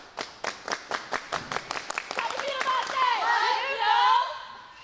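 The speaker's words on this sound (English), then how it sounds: "ladies, take us out with a cheer" Girls on a softball team clap a cheer together, about a dozen sharp rhythmic claps in quick succession before their voices rise into loud, excited chanting and shouting that carries to the end.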